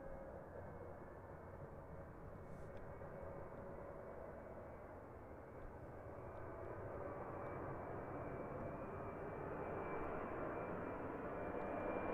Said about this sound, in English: Full noise from the Qantas Boeing 73 coming at us.